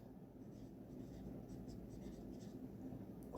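Soft scratching of a pen writing a word on paper, close and quiet, a series of light strokes over a steady low background hum.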